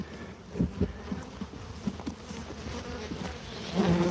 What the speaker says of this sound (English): wow, a lot of mad bees